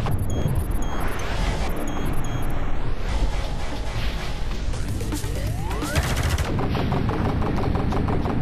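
Rapid sci-fi blaster gunfire in Space Pirate Trainer VR on Oculus Quest 2, dense bursts of shots with crashing impacts and electronic zaps, loud and continuous throughout.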